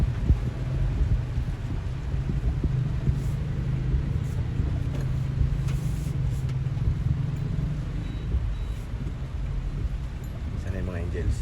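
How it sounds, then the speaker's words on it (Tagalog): Heavy rain pours in a steady, dense hiss that continues unbroken throughout, with muffled voices talking faintly underneath. "Pumasok kasi lumakas yung ulan."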